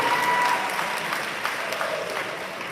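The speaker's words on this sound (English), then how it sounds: "Yeah, give him another round of applause." Audience applause at a bodybuilding posing clinic, steady clapping from a crowd that starts fairly strong and slowly thins out over a few seconds, with no talking.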